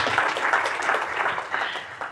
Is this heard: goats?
no